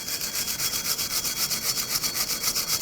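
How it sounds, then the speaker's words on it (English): A sanding disc scrubs a rusted brake hub surface flat on a 2006–2010 Hyundai Sonata, giving a fast, rhythmic, raspy grinding scrape that pulses evenly and close up, with no talking. "you're going to want to use a sanding disc of some sort and sand it flat"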